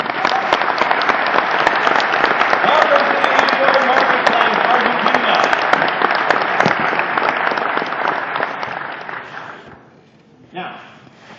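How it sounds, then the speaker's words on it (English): A large keynote audience applauds with loud, sustained clapping that fades out near the end, after which a voice speaks over the room. "So give yourselves a round of applause."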